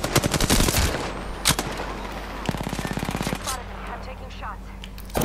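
Rapid automatic gunfire from the Apex Legends video game, loud bursts of close shots at a fast steady rate, then a sparser tail of distant shots and mechanical sounds, with a voice speaking briefly.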